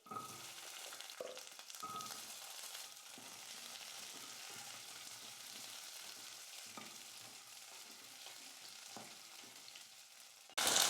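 Small onions and dried red chillies fry in a pan with a steady, soft sizzle and occasional stirring scrapes, heard alone and close throughout.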